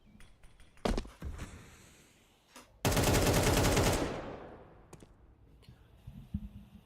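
Gunfire rattles through a Counter-Strike-style match near a bomb site. A few single shots are followed by a long, loud automatic burst lasting about a second, then it fades, with soft clicks and footsteps around it.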